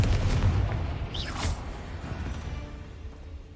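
A Confringo explosive spell blasts in Hogwarts Legacy, a heavy boom that opens the moment and is followed by a sharp whooshing streak and a fading rumble.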